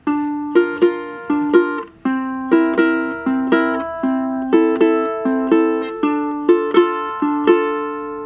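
A quick plucked melody on a ukulele, crisp notes picked in a fast, even rhythm that repeats the same figure, clear and close.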